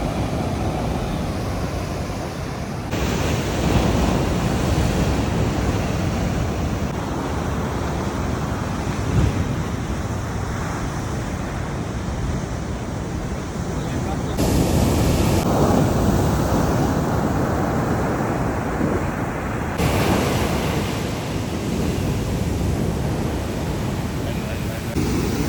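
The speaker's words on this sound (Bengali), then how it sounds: "তো ঢেউগুলো প্রচণ্ড ডেঞ্জারাস" Ocean surf at Kelingking Beach on Nusa Penida, a continuous loud roar of breaking waves mixed with heavy wind buffeting on the microphone, swelling and easing in long surges.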